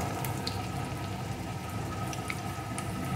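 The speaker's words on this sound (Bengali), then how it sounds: "এখন এর ভিতরে দিয়ে দেবো পরিমাণ মতো জল।" Warm water poured into a pan of fried taro, a continuous close, even splashing and gurgling flow that stays steady throughout with no talking.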